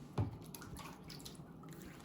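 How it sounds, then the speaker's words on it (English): Hands dipped into water while working clay, a soft close splash at the start followed by faint dripping and quiet trickling. "I'm going to dip my hands in water."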